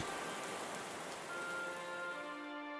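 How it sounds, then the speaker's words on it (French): Steady rain patters on a surface in a faint, continuous hiss, with a soft tonal hum lingering underneath throughout. "La pluie est tombée, les torrents sont venus, les vents ont soufflé"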